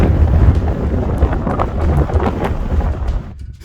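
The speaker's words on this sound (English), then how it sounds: "It's extremely windy, but the wind is not cold" Strong mountain wind buffeting the microphone on a Scottish ridge near Bridge of Orchy, a loud, gusty roar with rough bursts that cuts off abruptly near the end.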